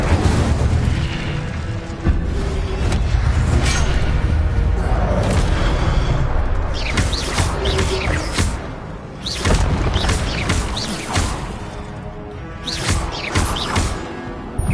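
The Incendio fire spell is cast again and again in Hogwarts Legacy, producing a string of loud booming bursts and crackling whooshes against a continuous roar of game sound.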